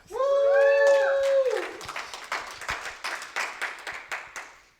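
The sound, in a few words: round of applause at a meetup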